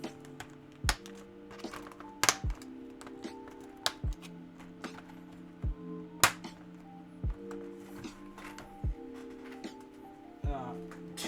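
Keycaps clack under steady typing on a mechanical keyboard, crisp close clicks in irregular bursts with a few louder taps standing out.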